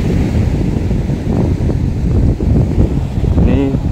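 Wind buffets the microphone and surf rolls continuously at Cemara Indah Gosong Telaga beach, a loud, rough wash of noise throughout with a brief higher tonal sound near the end.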